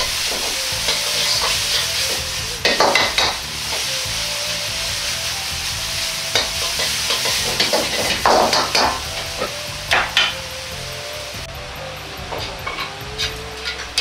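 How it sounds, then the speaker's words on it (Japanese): Crumbled frozen tofu sizzles and crackles in a hot pan while stir-fried quickly to drive off excess oil, with scraping and clattering bursts over a steady frying hiss. "最後は余分な油を飛ばすように手早く炒めていけば完成です"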